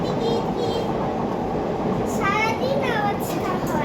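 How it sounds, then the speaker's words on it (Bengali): A train passing near a home kitchen gives a loud, steady rumble that fills the whole clip, with a few brief high squealing tones over it toward the end. "এই যে ট্রেনের আওয়াজ শুনুন।"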